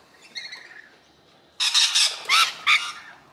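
Loud, harsh bird squawks burst out in a rapid run of four or five calls, preceded by faint, softer chirping.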